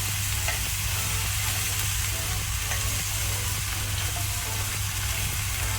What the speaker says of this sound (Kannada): ಈಗ 3/4 ನಾವು ಒಗ್ಗರಣೆಯಲ್ಲಿ ಬೆಂಡೆಕಾಯನ್ನು ಬೇಯಿಸುವ.